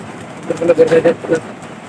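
Released racing pigeons coo softly in a short series of low warbling calls, with faint background rumble and some voices nearby.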